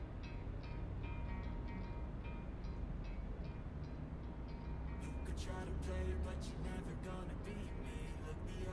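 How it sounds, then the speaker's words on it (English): Truck engine in the American Truck Simulator video game, a steady low drone with road rumble running throughout, faint ticking clicks joining in the second half. "Oh, my truck sounds proper."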